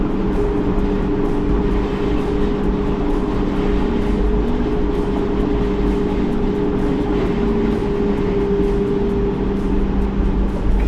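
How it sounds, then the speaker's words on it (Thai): A Foton electric truck drives slowly through water more than half a wheel deep, with a steady loud rumble and rushing wash that stays constant throughout at close range, and no talking. "ยิ่งขับช้ายิ่งดีกับรถนะ นี่น่าจะประมาณ เลยครึ่งล้อ"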